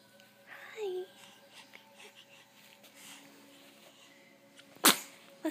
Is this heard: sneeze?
yes